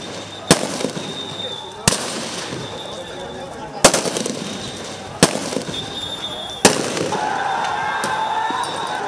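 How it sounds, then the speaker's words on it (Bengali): Loud sharp bangs ring out during street protest clashes, five separate reports a second or two apart, like gunfire and tear gas shells being fired, each followed by echoing noise, with crowd commotion in between. "মুহুর্মুহু গুলি, টিয়ার শেল"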